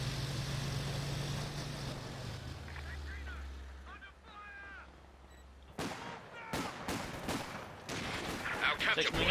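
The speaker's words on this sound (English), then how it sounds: "So many Vickers machine guns all over the place by now." Vickers machine gun fire in a Company of Heroes 2 battle: sharp bursts and separate gunshots crack out in the second half, following a low engine drone and whistling, with other battle noise all around.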